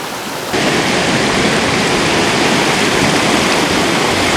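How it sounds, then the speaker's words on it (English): A year-round California creek rushes through Class 5 rapids, a loud, steady broadband roar of churning water close by, with no voices over it. "Class 5 rapids, oh yeah."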